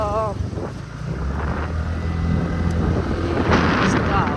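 Wind buffeting a microphone during a scooter ride on the road toward Beni bazaar and Mustang, a steady low rumble and roar with engine drone beneath, a voice speaking briefly over it.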